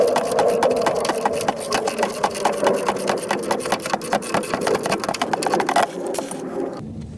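Steady, rhythmic scraping and ratcheting as a magnetic oil drain bolt on a 2.2 OHV Cavalier/Sunfire is turned out by hand, close and fairly loud, ending abruptly near the end.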